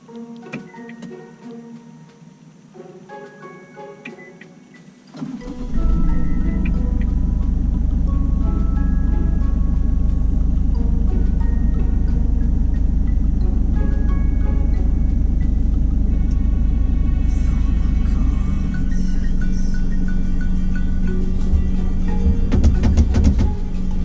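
An Isuzu D-Max engine starts by remote about five seconds in, then idles steadily with a loud, deep rumble. Before the start, only faint ticking can be heard. The idle continues alone, with no talk over it.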